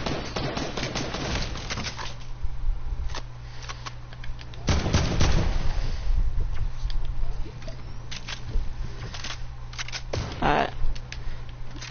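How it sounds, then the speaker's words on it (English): Gunfire in a shooting video game: bursts of sharp, fairly close shots come repeatedly over several seconds, mixed with voices talking. "now his teammate shooting back at me"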